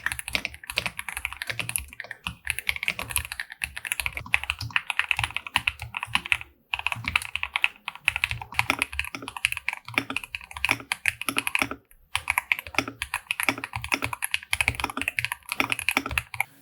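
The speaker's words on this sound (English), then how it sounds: "the smoothest sounding keyboards I currently own" NuPhy mechanical keyboards, compared with the Halo65 V2 and Aula F75, typed on in a steady, smooth clatter of keystrokes, close and clear with two brief pauses and no talking.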